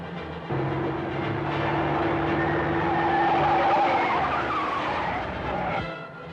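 A car's tires skid and squeal through a turn, loud and close, over a steady engine rumble lasting several seconds.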